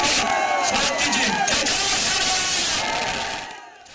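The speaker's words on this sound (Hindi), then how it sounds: "अपने तालियों के गगनों से योगी स्वागत कीजिए।" A large election rally crowd in Gujarat roars and cheers to welcome Yogi Adityanath, a dense, sustained wall of voices and applause that fades slightly near the end.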